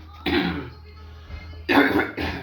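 A man giving a lecture coughs a few times, first a single harsh cough and then two close bursts, loud and near, with a quiet gap between them.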